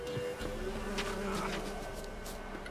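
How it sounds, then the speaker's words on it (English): A bee buzzes steadily and fairly faintly in the video game The Witcher 3, a continuous insect drone over a soft ambient background with no talking. "Did a fucking bee just touch me?"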